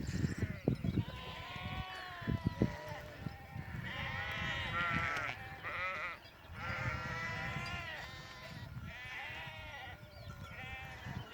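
A large flock of sheep and goats on a mountain pasture bleats continuously, many overlapping calls near and far, with the dense chorus of bleats running throughout.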